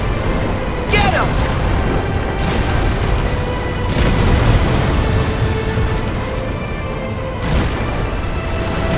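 Several heavy booms of ship cannon fire in a video game strike at intervals over a dense, rumbling battle din, with voices faintly mixed in.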